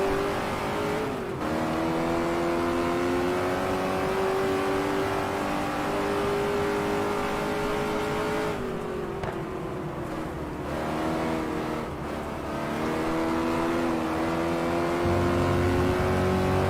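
A race car engine in the driving sim GT Legends drones steadily with a strong harmonic whine, pitch rising and dipping through corners as the throttle is worked, with two brief lifts, continuous and up close with no talk.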